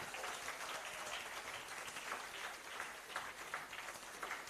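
An audience claps hands in a continuous, fairly quiet round of applause, many hands blending into an even patter throughout.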